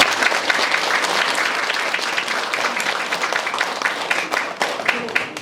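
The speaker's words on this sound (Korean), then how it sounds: "격려 박수 부탁드립니다." Dense, sustained applause from an audience at a gallery exhibition opening, steady clapping filling the room at close range, with some voices mixed in beneath it.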